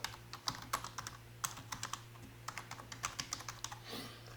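A folder name is typed on a computer keyboard, producing a quick, uneven run of close, crisp key clicks over a faint background hum.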